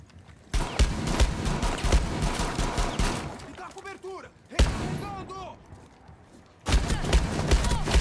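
Rapid bursts of gunfire in the online shooter Rainbow Six Siege, including Desert Eagle pistol shots, loud and close in three dense volleys with short gaps, while players talk excitedly over the shooting.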